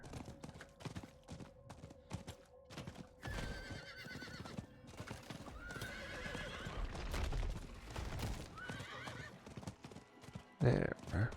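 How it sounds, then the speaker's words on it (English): A horse in Diablo IV whinnies and gallops, rhythmic clip-clop hooves and a drawn-out neigh, moderately quiet, with some game sounds and a brief sharp hit at the end. "Ride the horse up there because it's faster."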